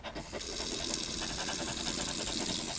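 Water poured for a dog named Max, a continuous splashing gush like a tap filling a bowl, close and fairly quiet, steady throughout with no talk.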